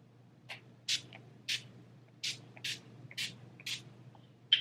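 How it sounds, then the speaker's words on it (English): A spray bottle misting setting spray onto a face in quick hissing bursts, about nine short sprays at irregular intervals, close and fairly quiet. "I'm just gonna spray this."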